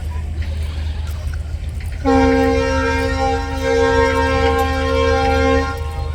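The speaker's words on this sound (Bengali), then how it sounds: "ছাড়ছে ট্রেনটা" A passenger train pulls out of a station on an overcast day in West Bengal, a loud sustained horn blaring for several seconds over the steady low rumble of the engine and cars.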